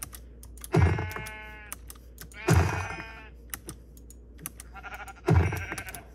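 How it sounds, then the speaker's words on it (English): Sheep bleat three times in Minecraft, each a clear, drawn-out cry spaced a couple of seconds apart, while computer keys click steadily in the background. "Oh, perfect. Sheep."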